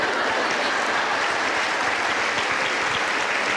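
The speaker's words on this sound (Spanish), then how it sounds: "Hasta ovación, Chati, ya viste." An audience breaks into an ovation, a thick, even roar of clapping filling the room, loud and continuous with no voices rising above it.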